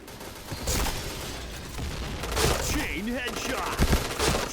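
Rapid gunfire from the video game Point Blank crackles in bursts alongside explosions and effects, with a voice talking over the action.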